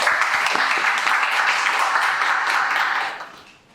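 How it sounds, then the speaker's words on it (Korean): Warm audience applause at a youth forum on judicial policy, a full crowd clapping evenly for several seconds before tapering off and fading out near the end. "박수 부탁드리겠습니다"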